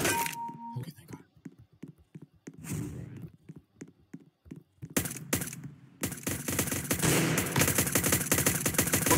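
Gunfire in the CS:GO video game: scattered sharp shots at first, then a dense, sustained burst of rapid automatic fire, with players talking.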